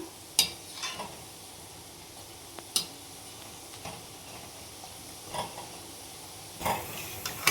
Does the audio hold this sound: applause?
no